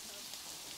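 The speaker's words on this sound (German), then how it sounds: "Scheiß Regen, ey." Steady rain pattering in the zoo-building game Planet Zoo, a continuous faint hiss of drops with no speech over it.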